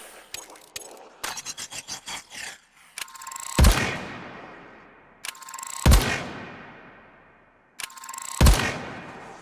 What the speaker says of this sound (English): strike a heavy chord with a single charge shot.